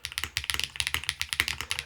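Typing on an Eave65 mechanical keyboard kit: a fast, steady stream of crisp, close keystroke clacks with a rapid, even rhythm and no other sounds.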